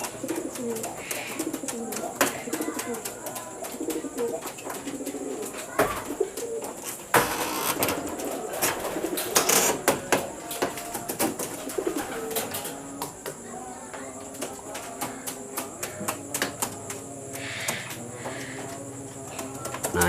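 Pigeons coo repeatedly in an Indonesian kolong-style pigeon loft, a steady layer of soft calls with occasional wing flaps and faint talk in the background.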